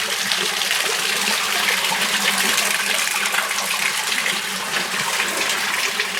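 Water gushes steadily into a fish pond on a fish farm during cleaning, a loud, continuous broadband rush of flow with no talking throughout.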